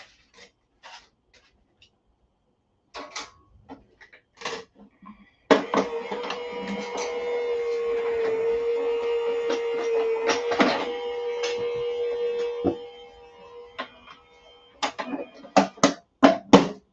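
A die-cutting machine cranks a heart-shaped die through dark designer paper for a card, a steady mechanical grinding roll lasting several seconds at close range, framed by soft handling clicks and taps before and after.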